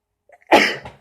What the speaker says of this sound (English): Oh, I have to sneeze.